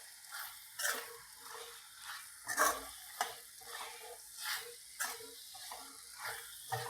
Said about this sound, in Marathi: आता एक थोड्या वेळ परतून घेऊया ह्याला चांगलं